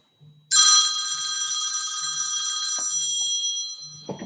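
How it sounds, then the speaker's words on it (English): A telephone bell rings loudly and continuously for several seconds, a bright sustained ring that begins abruptly after a faint low tap and cuts off near the end, with no voices. "there goes the phone."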